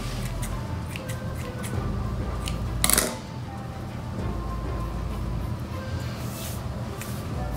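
A single brief snip from cutting moss pole material, near and crisp over a steady background hiss, with a few small clicks and rustles around it.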